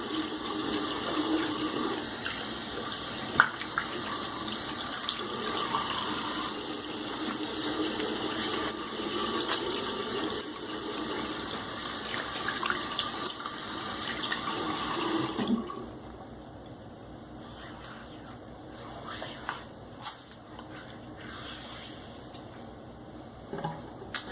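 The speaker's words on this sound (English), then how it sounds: "do a quick rinse and see how it feels" A tap runs strongly for a rinse after a shaving pass, a steady rush of water for about fifteen seconds, then cuts off, leaving quieter drips and small splashes.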